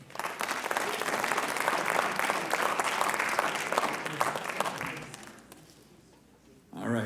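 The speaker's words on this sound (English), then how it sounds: "give a big round of applause for Mr." Sustained audience applause at a school writers' expo debate, steady dense clapping for about five seconds that fades out, followed by a brief voice at the end.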